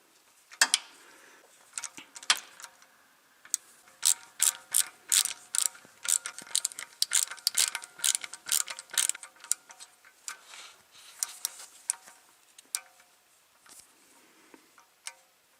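Ratchet clicking in repeated short bursts while tightening the DCT filter cover bolts on a C8 Corvette, crisp close ratcheting strokes with brief pauses between runs, no talking.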